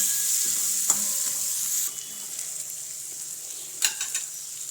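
Gunda-flower khichdi being stirred in a pan gives a steady sizzle with a few spoon scrapes and clinks, and the sizzle eases partway through.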